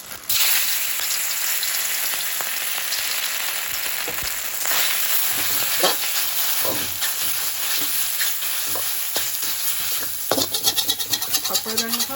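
Rice noodles fry in a little hot oil in a very hot wok, giving a loud, steady sizzle with occasional scraping stirs and soft clatter that grows busier near the end.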